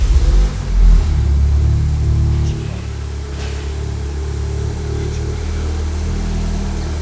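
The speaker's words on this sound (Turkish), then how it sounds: "Ya orijinal egzoz ama DP ile birlikte güzel ses çıkıyor yalnız." A tuned Stage 2 VW Golf 7R engine with downpipe and original exhaust idles with a low, throaty rumble, swelling briefly near the start and then settling into a steady drone, with no talking.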